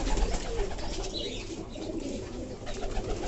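A hand-tamed pet pigeon-like bird gives soft, low coos close by, steady against a faint background hiss, with no talking.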